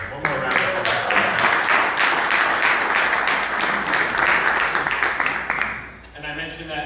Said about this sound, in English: So again, one more round of applause